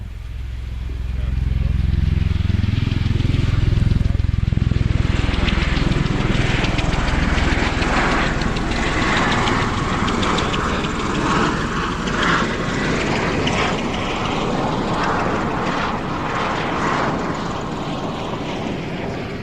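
A V-22 Osprey tiltrotor aircraft lifts off in a tactical takeoff, its rotor and engine roar swelling quickly and then holding as a loud, steady, throbbing drone throughout.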